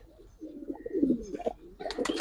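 Giribaz flying pigeons in a loft give a short run of soft, close coos, followed by a louder burst of mixed noise.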